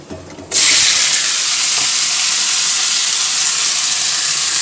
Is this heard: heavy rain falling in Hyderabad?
no